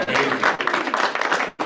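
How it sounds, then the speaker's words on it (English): Applause from an audience at a stakeholder meeting, a dense burst of clapping that holds for over a second, cuts briefly, then resumes. "Another round of applause."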